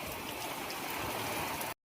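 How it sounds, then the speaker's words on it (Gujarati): Swollen, flooded river water rushes in a steady broadband roar, loud and continuous until it cuts off abruptly near the end. "બે કોઠે નદી આવી ગયા જબરજસ્ત પાણી આવે"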